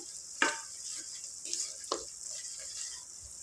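One kilogram of cleaned mutton frying in ginger garlic paste with salt in a pan, a steady faint sizzle with a few louder stirring scrapes, close by and without talk.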